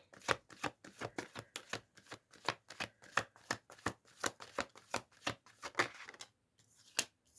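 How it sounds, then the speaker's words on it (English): Tarot cards are shuffled and drawn, a steady series of crisp riffling snaps, about twenty sharp strokes in quick rhythm, close and quiet, with a short pause near the end before a final flick. "I'm going to draw 3 cards and then we're going to see."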